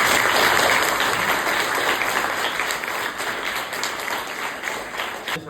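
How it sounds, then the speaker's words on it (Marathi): Hearty audience applause at a school prize ceremony for handwriting and shloka recitation contests, a steady dense wash of clapping that continues throughout and fades slightly toward the end. "तसंच यासाठी जोरदार टाळ्या होईल"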